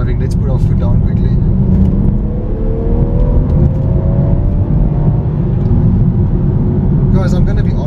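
A BMW M240i F22 with the B58 turbocharged inline-six accelerates hard, a loud rumbling engine note rising steadily inside the car, with speech over it.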